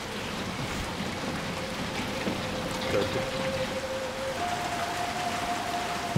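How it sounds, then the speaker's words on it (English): Steady, continuous rain pours down in the video game Little Nightmares 2, a dense even hiss that stays level throughout under a faint sustained tonal hum; a voice briefly says a single word. "maybe the rain could go away"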